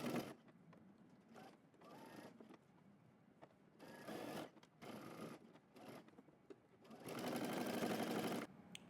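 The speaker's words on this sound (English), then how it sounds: "I'm gonna sew through all layers, and we're using 5/8 of an inch seam allowance" Sewing machine stitching through all layers of a jacket seam: several short bursts of rapid mechanical whirring separated by pauses, ending with a longer run, faint and close.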